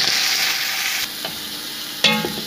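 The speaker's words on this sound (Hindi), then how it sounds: "चिकन का कलर सफ़ेद होने तक इसको हम अच्छी तरह ऑयल और लहसुन में इसको भूनते रहेंगे" Chicken stirred in hot oil with browned garlic, a loud close sizzle that drops back at one point, with a scrape or clatter of a spoon in the pan; no talking.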